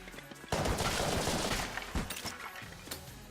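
Enemy gunfire in Enter the Gungeon, a rapid volley of shots that swells suddenly and keeps rattling, with sharper individual pops and impacts scattered through it.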